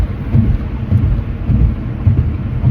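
Steady rain with low rumbling thunder on a cold morning, a loud, continuous wash of rainfall and deep rolling booms filling the short stretch with no voices.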